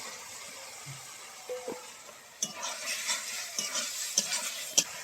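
Boiled, cut potatoes go into spice masala frying in a pan and get stirred, giving a soft steady sizzle broken by scraping spoon strokes and light clinks against the pan, with no talk.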